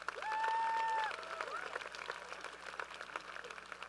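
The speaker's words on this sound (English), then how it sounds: "Can we please give these students a round of applause?" Faint crowd applause for graduating students at the 2023 Downingtown High School East commencement, a soft, steady patter of many hands that follows a brief ringing tone and continues throughout.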